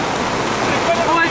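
Rain falling and dripping onto an umbrella at night in Koktebel, Crimea, in September: a dense, loud, even wash of water noise that continues without a break.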